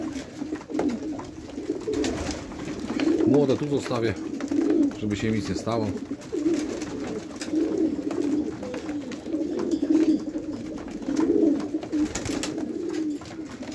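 Soft pigeon coos repeat low and steady through the clip, close by, while someone talks over them.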